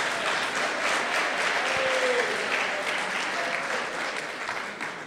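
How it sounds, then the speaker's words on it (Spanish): A crowd applauding energetically, clapping holding steady before tapering slightly toward the end. "un muy fuerte aplauso a nuestros jueces"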